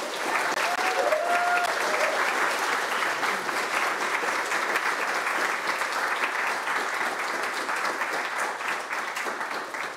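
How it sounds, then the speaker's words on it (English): An audience at a botanical quiz final gives a long, steady round of applause, many hands clapping densely and evenly for the full stretch, fairly close with no talk over it. "So a round of applause for those people"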